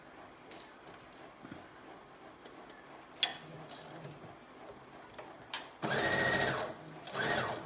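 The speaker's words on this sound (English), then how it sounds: "So now we're gonna sew our 3/8 inch or 1 centimeter hem allowance, or seam allowance" A domestic sewing machine stitches a 3/8-inch seam allowance along a curve on a New Look 6507 one-shoulder dress, with a few faint ticks and handling noises before a loud steady run of stitching, a short pause, then another burst.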